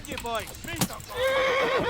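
A horse in the video game Kingdom Come: Deliverance whinnies loudly with a rising, wavering call, followed by a long shrill neigh that trails off, amid game sound effects and a brief thump.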